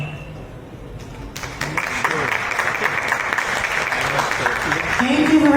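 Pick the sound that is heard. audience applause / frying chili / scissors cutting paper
audience applause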